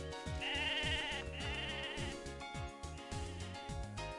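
Sheep bleat in a few loud, wavering calls, close by, over a repeating musical background, in the video game Mabinogi.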